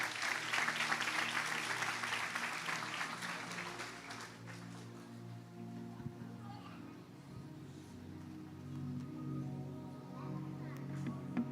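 Applause from a church audience, fairly dense for the first few seconds and then tapering off into a quieter room with a low sustained tone underneath.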